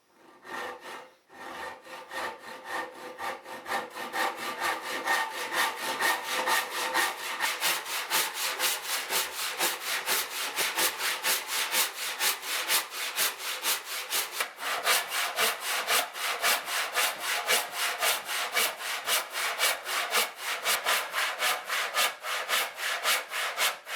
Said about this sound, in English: I'm just going to use a handsaw for that